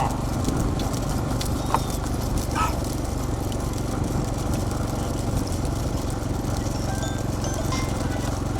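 Racing bullocks in a poonchittu race pound along in a continuous, dense rumble of hoofbeats, loud and close, with steady broadband noise throughout and brief faint chirps above.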